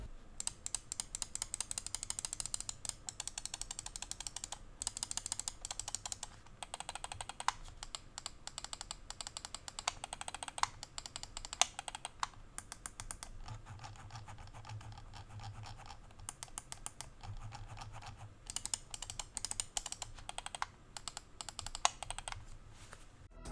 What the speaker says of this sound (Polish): Posłuchajcie jak to wszystko klika